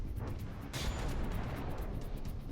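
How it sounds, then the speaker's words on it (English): Artillery shells fire and land in the naval combat game From the Depths, a dense, sustained rumble of booms with a sharp burst partway through, loud and continuous with no talk. "Got a couple more shells coming in."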